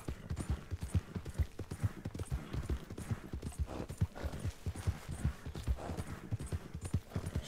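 Horse hooves gallop in Red Dead Redemption, a steady rapid clip-clop rhythm that stays close and even throughout, with no voices.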